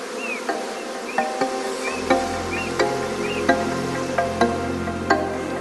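Honey bees crowding into a closed, dark hive to settle as a colony, giving a steady insect buzz with repeated soft clicks and taps, with no voices.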